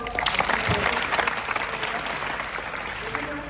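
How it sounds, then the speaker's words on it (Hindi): An audience claps for a good answer during a talk at an educational institution, a dense, steady burst of applause that carries close and loud throughout, with a little murmuring mixed in. "इस उत्तर के लिए ताली बजाओ।"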